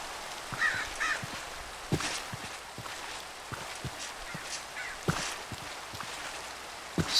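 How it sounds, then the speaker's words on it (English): A crow caws a few times in a Minecraft modpack world, the calls fairly faint and spaced out over a steady rain-like patter, with short clicks scattered throughout. "Hello, Crow."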